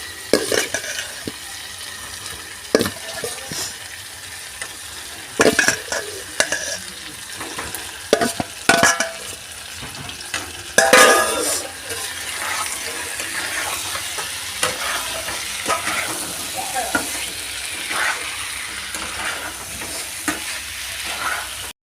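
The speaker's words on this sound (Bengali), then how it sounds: "মশলাটা আমার ভালো করে কষানো হয়ে গেছে এর মধ্যে দিয়ে দেব আলু" Fried potatoes sizzle in a spice paste in a pan for a Bengali magur fish curry, with steady frying hiss broken by repeated sharp scrapes and clinks of a spatula stirring against the pan.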